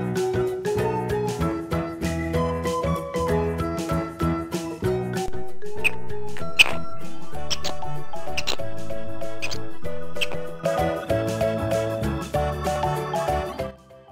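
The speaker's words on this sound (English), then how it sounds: "Squirrel." A TOMY Ania squirrel toy plays its sound through a small speaker, a bright, busy musical jingle with layered tones and quick squeaky accents that runs steadily for several seconds, loud and close, with no talking.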